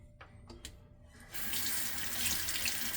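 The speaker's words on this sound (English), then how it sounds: "let's get the water poured out from the Mama Bears." Water rushes steadily from a tap into a sink while a shaving soap container is rinsed out, starting after a few faint knocks and continuing close and loud to the end.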